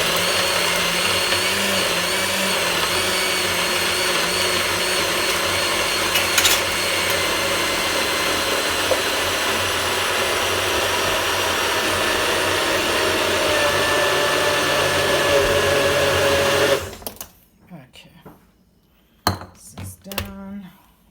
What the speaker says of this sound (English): Now this is the Nutribullet